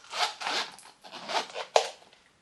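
A gold zipper on a vegan leather jewellery case is pulled in several quick runs around the case, close and rasping, ending with a sharp click.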